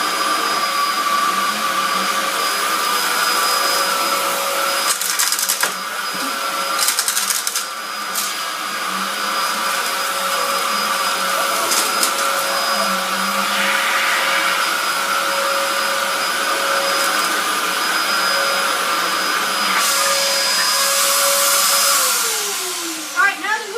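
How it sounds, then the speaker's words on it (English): A cyclonic vacuum cleaner runs continuously at close range, a steady high whine with a few bumps and brief shifts as it is moved, then winding down near the end. "When I turn it on, you'll see the cyclonic action."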